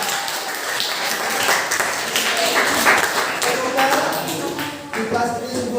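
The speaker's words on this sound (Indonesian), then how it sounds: "Tepuk tangan dulu buat kalian." A class of eighth-grade students claps for classmates, a quick dense patter of many hands in a classroom, fairly close, with voices mixed in.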